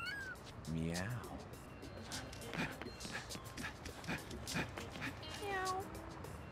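Repeated cartoonish cat meows in the video game No More Heroes, several in a row, mixed with short clicky game sound effects and someone talking over them.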